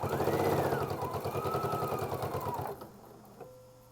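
A Husqvarna Viking Epic 980Q sewing machine stitches through thick quilt layers with a loud, rapid, close mechanical whir and tapping that stops abruptly near the end, leaving quiet hum and a single click.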